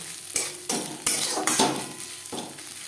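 Onion and spices for masala dosa fry in a pan with a steady sizzle, while a utensil scrapes and stirs in several sharp strokes about every half second.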